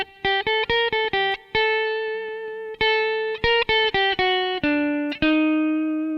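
Metal-style electric guitar plays Big Sciota as a melody in harmonic minor, sounding a clear run of sharp, distorted single notes. Quick repeated attacks alternate with held tones, loud and upfront with no voices.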